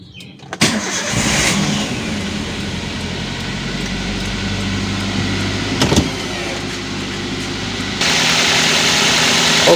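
A car engine cranks and starts, then settles into a steady idle nearby, with a click midway and the hum growing louder toward the end; the car has its oil warning light coming on while driving.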